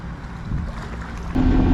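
A newly delivered boat's motor rumbles low and steady over rushing water and wind buffeting as it cruises at about 18 knots, growing slightly louder toward the end.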